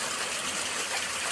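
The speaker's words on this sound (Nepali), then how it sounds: "झरनामा पानी बगिरहेको छ" Water rushes steadily down a waterfall on a trip near Anini, a close, continuous gushing wash with no voices.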